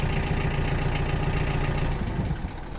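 A Mitsubishi MT285 four-wheel-drive tractor engine idles steadily up close with a low, even rumble that fades slightly near the end.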